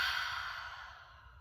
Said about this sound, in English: You're going to take a deep breath in.